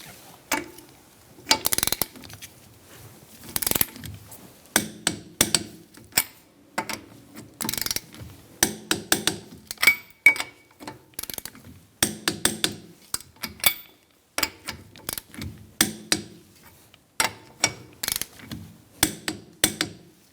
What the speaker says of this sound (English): we're going to torque our wheel to 80 foot-pounds